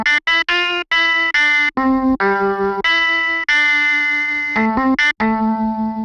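A dry Mellotron guitar sample from a vintage Kontakt library plays a series of sustained, harmonically rich tones that shift pitch every half second or so, loud and close, with no talking.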